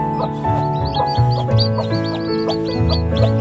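A mother hen clucks among newly hatched chicks, low repeated clucks under a dense chorus of high, rapid peeping from several chicks, close and continuous.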